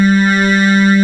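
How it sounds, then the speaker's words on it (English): Static FM synthesis tone from an FM-X synthesizer, basic operators 1 and 2 stacked with no motion sequence: a steady, loud, unchanging buzzy tone with dense harmonics, sustained alone throughout. "It's just a basic FM type of wave, very static"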